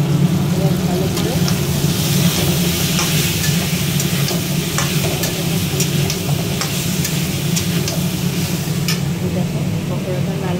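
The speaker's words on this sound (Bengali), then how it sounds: "পকোড়াটা লাল করছি, তার মধ্যে এই আচারের লঙ্কাগুলো ভেজে দিই।" Pakora and pickled chillies fry in a pan, a steady dense sizzle running for the whole stretch with small stirring clicks and faint ticks scattered over it, no voice on top.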